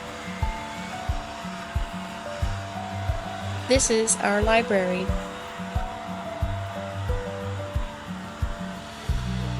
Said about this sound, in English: This room needs a little bit of vacuum.